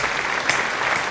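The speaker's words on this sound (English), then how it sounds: "Can we get a round of applause, please?" A short burst of steady audience applause at a fitness talk, dense and even throughout, with no one speaking over it.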